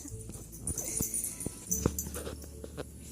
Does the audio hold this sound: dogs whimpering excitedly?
yes